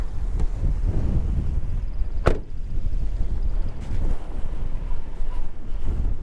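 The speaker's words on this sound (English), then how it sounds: "There's the wind. Hang on to your door." Wind gusts buffet a truck on a small farm by a drainage ditch, giving a steady, blustery roar with microphone rumble. It is loud and close, with a sharp clunk near the middle and no talking.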